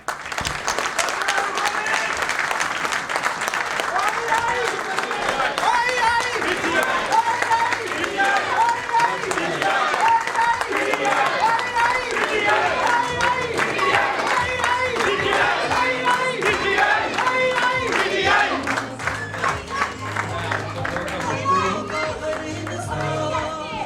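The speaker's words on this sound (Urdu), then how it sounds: "اور آپ کی زوردار تالیوں میں ڈاکٹر الوی صاحب" Crowd at a PTI UK Southwest political gathering in Bristol applauding and cheering loudly for Dr Arif Alvi, a steady wall of clapping with shouts and voices throughout, close and sustained.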